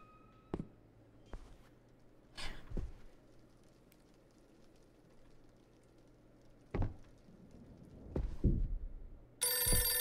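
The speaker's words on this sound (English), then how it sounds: "Oh, the phone is ringing." In the horror video game Visage, a telephone bell rings near the end after a few scattered thumps and knocks in a quiet room. The ring is loud and close, with no speech.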